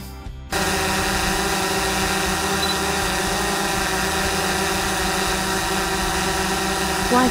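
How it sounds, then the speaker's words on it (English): A small unmanned flycam drone gives off a steady, close, continuous motor buzz with a constant pitch, starting abruptly and holding for several seconds. "a small, unmanned aerial vehicle, UAV, commonly known as a drone"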